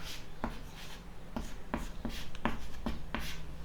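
Short scratchy strokes of a marker or chalk writing a math expression on a board, repeated in quick uneven bursts, quiet and close against faint room noise.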